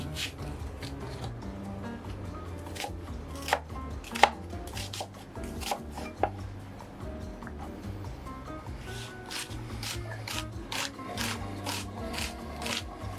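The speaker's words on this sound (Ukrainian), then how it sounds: "Ну а цибулю нарізаємо" An onion is diced into cubes on a cutting board: fast, regular knife chops knock close by throughout, with a few louder strikes and no talking.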